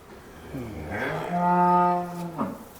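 A female buffalo calf moos once, a long rising and sustained bellow with a nasal, harmonic tone, close by, in an otherwise quiet setting.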